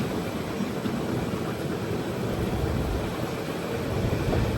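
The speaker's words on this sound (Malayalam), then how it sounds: "ഒമ്പത് 25 ട്രെയിൻ ഇപ്പോൾ നാഗർകോവിൽ ജംഗ്ഷനിലെത്തിയേ" Kanniyakumari–Rameswaram Express rumbling steadily as it arrives at Nagercoil Junction, a loud continuous rail roar with broadband noise throughout and no voices.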